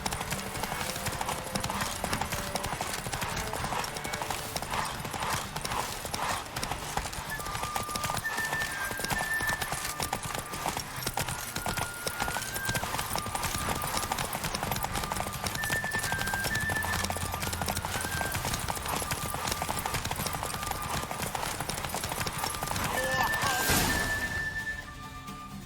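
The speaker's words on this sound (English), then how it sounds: "I think those are just two horses." Two riderless horses in The Witcher 3 clip-clop steadily throughout at a walking pace over continuous game music, with a brief crash near the end.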